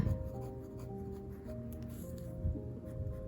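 Fountain pen with a number 6 steel extra fine Jowo nib writing on paper, a soft, close, continuous scratchy glide at low volume with short strokes and pauses.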